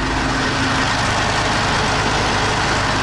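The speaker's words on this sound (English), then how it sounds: "here's the engine. You can hear it for yourself. It hums very strongly." Huge diesel engine on a boat anchored near a Pacific island, humming loudly up close as a dense, constant low drone that fills the space, with no talking.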